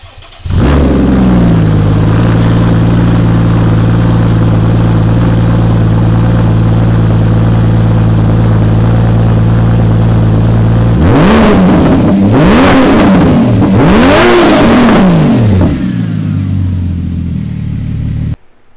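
A Porsche 981 Cayman S fitted with a Fabspeed race exhaust cold-starts with a loud crank and bark, then settles into a steady, high fast idle, followed by several sharp throttle blips near the end before dropping back down.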